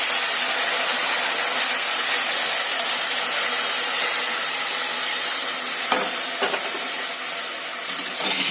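Boiling water is poured onto roasted vermicelli in a pan for upma, producing a steady loud hiss and sizzle, with a few clinks of a utensil near the end.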